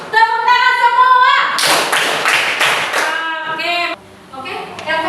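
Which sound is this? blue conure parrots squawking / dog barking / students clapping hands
students clapping hands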